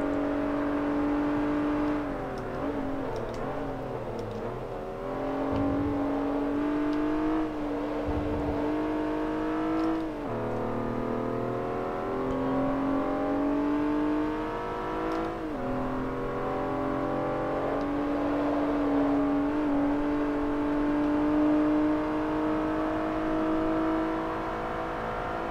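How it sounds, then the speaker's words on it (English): Hyundai Genesis Coupe in Forza Motorsport 3 pulls away, engine note steadily climbing and shifting through revs in a continuous, loud drone with rising and falling harmonic sweeps over the whole stretch. "Driving away."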